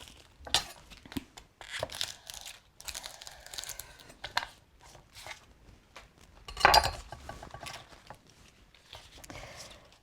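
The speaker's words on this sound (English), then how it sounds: "So I will start sauteing it first with the onion." Chopped onion is sautéed and folded in a pan, giving sparse scraping and clattering of a utensil against the pan with a few sharper knocks, fairly quiet and irregular.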